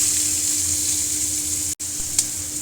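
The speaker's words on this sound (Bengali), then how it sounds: "কয়েক সেকেন্ড বাদে এবার আমি পেঁয়াজগুলো দিয়ে দেব।" Onions sizzle in hot oil with black cumin in a wok, giving a continuous close hiss with one brief dropout and a small crackle afterward.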